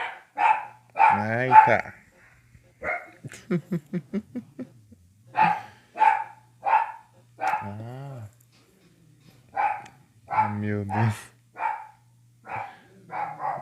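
A dog barks repeatedly in the video game Clock Tower, in short bursts and sharp yelps spread across the clip, while a person talks and reacts between and over the barks.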